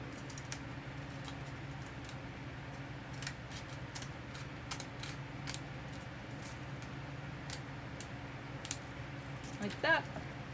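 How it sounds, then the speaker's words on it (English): Scissors snipping through a short piece of paper while making page corners, a quiet series of small crisp cuts spread across the stretch with a cluster of closer snips near the end, under low room background. "We're going to cut even shorter here."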